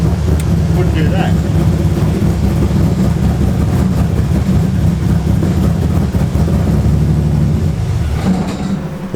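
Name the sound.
engine sputtering as if running out of fuel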